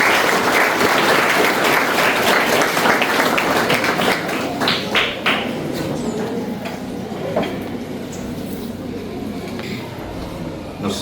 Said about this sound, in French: Sur vos applaudissements, s'il vous plaît.